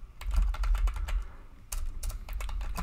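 Terminal commands typed on a computer keyboard, crisp rapid key clicks in two bursts with a short pause between, close and clear with no talk.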